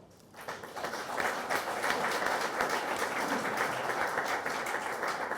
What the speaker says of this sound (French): Madame Yamina Benguigui, que je vous demande de bien vouloir applaudir.